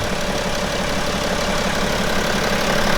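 A BMW X5 35d with the M57N2 diesel engine idles after a timing chain repair, giving a loud, steady, even clatter and rumble that stays constant throughout, with no voices.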